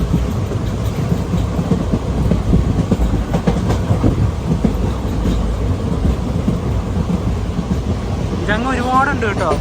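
Palaruvi Express sleeper-class train running through green Palakkad countryside, a loud continuous rumble and rattle of wheels and carriages with steady clickety-clack, a brief horn-like tonal wail near the end.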